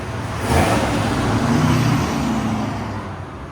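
A 2026 Chevy Silverado Trail Boss with the 5.3L V8 on stock exhaust idles steadily with a low, even rumble, close by and continuous with no revving.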